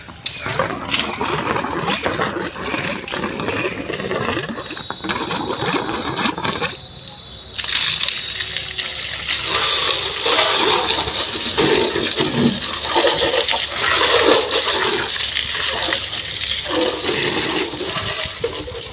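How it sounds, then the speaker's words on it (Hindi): A washing machine pump spraying water from a pipe onto a bike, a loud, steady hiss and rush of water with a motor hum underneath that grows harsher and fuller partway through. "पाइप में पानी आने लगा।"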